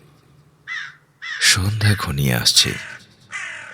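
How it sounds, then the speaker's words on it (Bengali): Several harsh crow caws, one early and more scattered through the clip, with a narrator telling a Bengali horror audio story over them at close range. "এখনো কয়েকটা কাক অবশ্য ডাকছে"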